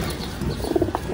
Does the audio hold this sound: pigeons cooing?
yes